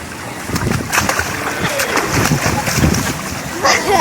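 Water splashing and sloshing in a beachside swimming pool at Mandarmani, continuous close churning with irregular splashes throughout, while someone talks over it.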